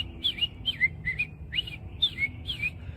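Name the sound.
imitated robin song, bird call impression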